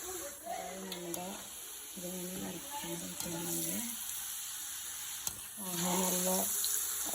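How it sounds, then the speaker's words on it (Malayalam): Potato French fries bubble in hot oil at home with a steady, close frying hiss throughout. A voice talks over the sizzle in several short stretches. "അപ്പോൾ നമ്മൾ വറുക്കാൻ പോവാണ് ഇവിടെ നമ്മൾ എണ്ണ ചൂടാകുന്നുണ്ട് അപ്പോൾ നമുക്ക് അതിലേക്ക് ഇട്ട് കൊടുക്കാം"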